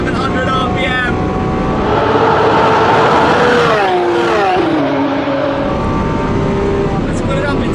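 On a track, a Lamborghini Aventador SVJ engine screams up to 8,700 RPM, loud and near, its tone rising steadily before a sharp drop at the upshift and renewed pulling.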